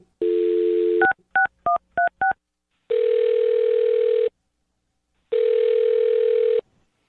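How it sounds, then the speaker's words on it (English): A telephone dial tone drops into a quick run of five touch-tone keypresses. Two long ringback tones follow, separated by silence, all loud and close. "I'll dial her phone number right now and see if we can figure it out"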